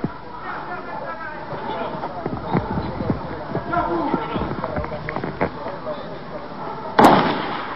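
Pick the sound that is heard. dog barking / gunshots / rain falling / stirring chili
gunshots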